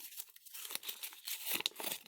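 Sheet of paper crumpled by hand for a worn, tinted look, giving a quiet, continuous crackling and crinkling with irregular sharper crunches, close up and with no talk.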